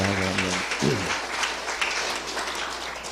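A church congregation at an evening service breaks into applause, dense clapping that swells after a brief spoken phrase and then tapers off.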